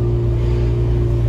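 Peugeot 206 1.4 exhaust, recorded onboard while accelerating, gives a strong, close, steady low drone with a clear tonal hum throughout.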